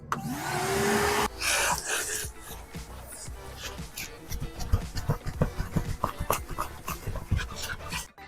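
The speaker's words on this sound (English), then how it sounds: "First step is vacuuming." Vacuum cleaner being used on dirty cloth car seats, a loud whine at first that gives way to uneven scraping and bumping as the nozzle works the fabric, while a dog pants nearby.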